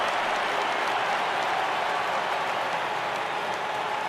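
Crowd applause and cheering from a home ballpark crowd in a baseball video game, a dense, steady roar of clapping that holds at full volume throughout.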